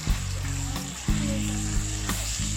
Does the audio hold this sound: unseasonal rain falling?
no